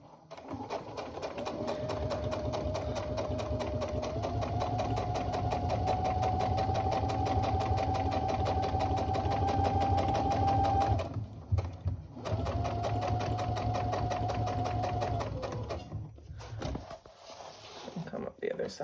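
A sewing machine stitches a tote bag in long, steady runs of rapid mechanical whirring with a rhythmic needle chatter, pausing briefly before a second run, then stopping.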